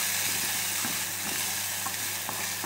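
Ginger and garlic sizzle steadily in a pan while being stirred. A dense, close frying hiss runs throughout, with faint scraping stir strokes and no voices.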